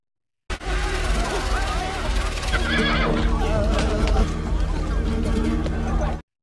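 A war horse whinnies loudly amid steady clip-clopping hooves as it is ridden through a village in the film 1492: Conquest of Paradise, with a dense, busy backdrop that may include crowd voices.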